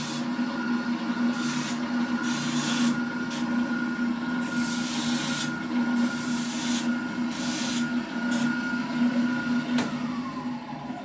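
Spindle sander running in a cluttered woodworking shop while slat wall shelf braces are made, a steady motor hum with repeated scraping bursts as the workpiece is pressed against the drum.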